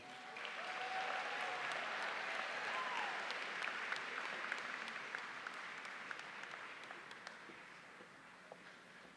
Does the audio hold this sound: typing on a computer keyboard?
no